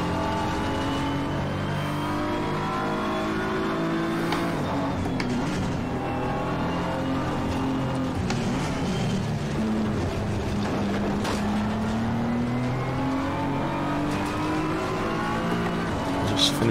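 A race car in Assetto Corsa Competizione roars steadily at high revs, the engine note rising and falling through gear changes and corners with brief tyre scrubs, loud and continuous throughout.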